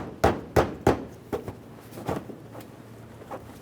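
A plastic bumper cover on a Nissan Altima is pressed into place along the fender near the headlight. A series of close, hollow thumps and snapping knocks comes quickly at first, then turns sparser and softer.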